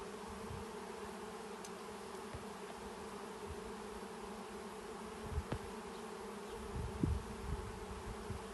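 A steady, low insect drone of many bees humming together, close by and continuous, with a few soft knocks and brief louder bursts near the end.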